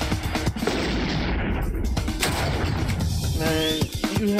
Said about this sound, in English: And you have shot your rocket way too quickly.